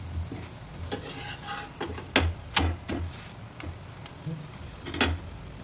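Parathas cooking in ghee in a pan, a soft steady sizzle broken by scattered scrapes and taps of a utensil against the pan, heard close up with no talking.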